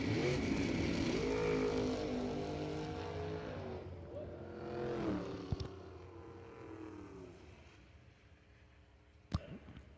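Loud, rising engine roar from dragsters launching down a drag strip, harmonics sweeping upward as they accelerate, fading off, then a sharp bang near the end.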